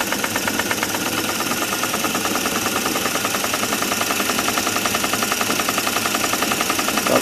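A PM Research model dynamo spins steadily at roughly 500 to 700 RPM, giving a loud, close, continuous mechanical whir with a fast, even pulsing rhythm and no voices.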